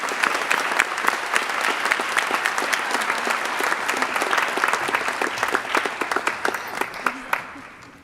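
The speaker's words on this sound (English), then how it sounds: "give another round of applause" Sustained applause from a seated audience at a high school underclassmen awards ceremony, steady dense clapping for about eight seconds before tapering off at the end.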